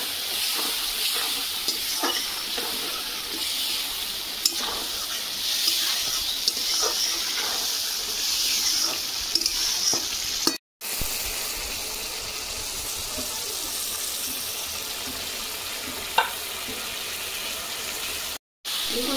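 Spice masala for a vegetarian pumpkin curry sizzles steadily in a pan after water is added, a loud continuous frying hiss with faint stirring scrapes, unbroken apart from two very brief cuts.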